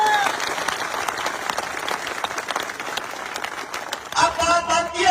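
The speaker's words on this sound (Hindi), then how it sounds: "मैं चाहता हूं झुंझुनू के नाम की जोरदार तालियां होनी चाहिए एक बार" Audience at a political rally in Jhunjhunu breaks into loud, sustained applause and clapping that fills the whole stretch, swelling near the end.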